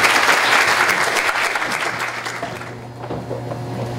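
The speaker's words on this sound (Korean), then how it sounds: "큰 박수로 모셔보도록 하겠습니다." Loud, full applause from an audience welcoming a guest lecturer to a special talk, strong at first and thinning out toward the end as a low hum remains.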